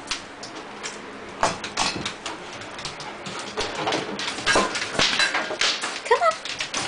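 Excited dogs whimper and whine at a door to be let in, with scattered tapping and scuffling, a couple of soft barks and a voice speaking over them nearby.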